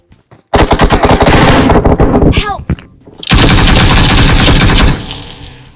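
Loud, dense bursts of automatic gunfire in the mobile battle-royale game PUBG Mobile, two sustained volleys separated by a brief pause.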